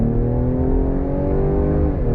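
A 2022 Ford Explorer ST with a 400-horsepower twin-turbo V6, all-wheel drive and a 10-speed automatic, pulling away hard from a stop, its loud engine note climbing steadily in pitch with no talk.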